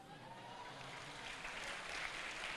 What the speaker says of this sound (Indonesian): jangan tepuk tangan dulu, tunggu masih panjang